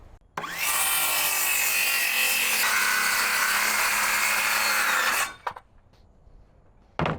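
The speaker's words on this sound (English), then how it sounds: "then we'll cut the wood" A saw cuts loudly and steadily through wood for about five seconds, then stops, followed by a few light knocks and handling sounds.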